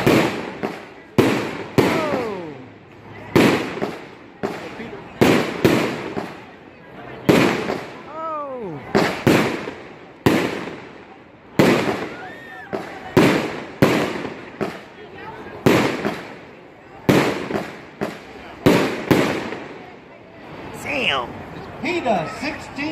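A 16-shot consumer fireworks cake at a demo night fires a rapid run of loud bursts with whistling rising trails, each shot followed by a crackling report. A short pause breaks the sequence, and people talk faintly throughout.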